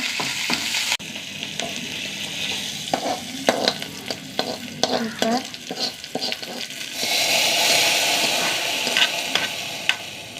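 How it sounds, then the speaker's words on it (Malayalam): Onions fry with curry leaves and dried red chillies in a pan, a steady sizzle broken by irregular stirring scrapes and clicks, the frying swelling louder near the end. "2 കറിവേപ്പില. ഉള്ളി മൂത്ത് വരട്ടെ."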